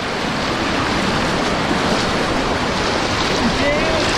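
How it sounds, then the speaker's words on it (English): River water rushing steadily and loudly around someone wading across, a dense unbroken roar of flowing water close to the microphone. "Oh! Yeah, we're in the river."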